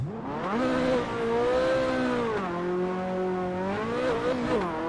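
An 80s or 90s supercar launches off the line on a drag strip, its engine rising in pitch through a steady revving climb. It holds briefly, then climbs again, loud and close, with no talk over it.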